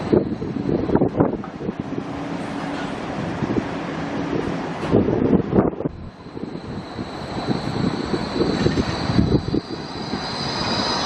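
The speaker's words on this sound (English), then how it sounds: "Blowing virtually a gale of wind down here at the moment." A near-gale wind blows hard at a tram stop on the Gold Coast, loud gusty buffeting and microphone rumble rising and falling in waves, with a faint steady tone sitting in the background.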